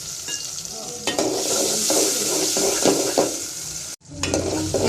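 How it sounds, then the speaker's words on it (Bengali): Shrimp and onion frying in a pan for a bottle gourd and banana blossom curry, with a steady close sizzle and repeated scraping stir strokes, broken by a brief silence near the end. "চিংড়ি মাছ পেঁয়াজটা ভালো করে ভাজা হয়ে গেছে।"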